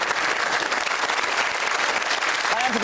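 Studio audience applause on a TV talk show, The Jeremy Kyle Show, a loud, dense burst of clapping that stays even for a few seconds, with a brief voice at the end.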